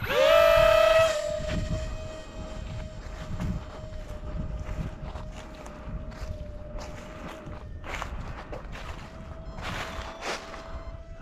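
Dark Star electric ducted-fan RC jet whines with a sharp, steady high tone, loudest at launch and then holding at a constant pitch, over footsteps and rustling outdoors.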